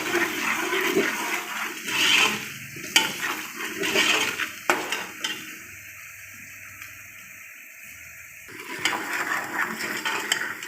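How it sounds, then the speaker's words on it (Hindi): Masoor masala frying and being stirred in a pan, with steady sizzling, scraping and stirring strokes, a quieter hiss in the middle, then louder stirring again; no talk. "अब मैं इसे अच्छी तरह भून लूँगी। 5 मिनट हमने इसको भूनना है"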